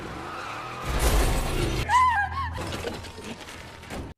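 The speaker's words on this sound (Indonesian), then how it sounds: "sebuah mobil melaju kencang dan berhenti mendadak di dekat sebuah gedung" A car in a film speeds in and brakes suddenly near a building, its tires skidding and squealing loudly with a rising engine roar, followed by a lingering rumble as it comes to a stop.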